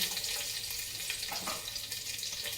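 Garlic fries in a pan for chicken sukka, giving a continuous bright sizzling hiss that stays close and even throughout, with no voices over it.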